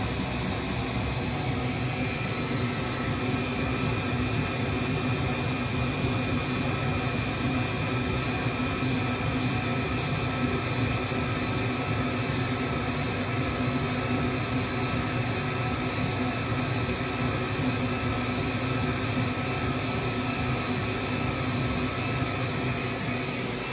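An xTool S1 diode laser engraver runs with its exhaust fan, a steady, loud whooshing drone without a break, an even broadband roar with no talking.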